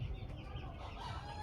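Chickens in a poultry shed farm cluck in a steady, dense low murmur, with occasional rooster-like calls mixed into the continuous flock noise.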